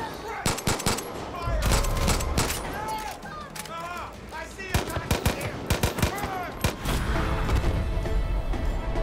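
Dense automatic gunfire in the open-world shooter Far Cry 5, with sharp shots in quick clusters and overlapping bursts, mixed with shouting voices.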